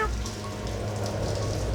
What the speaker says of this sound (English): And you are left there, probably with Bogart shielded under an arm from the wind and rain.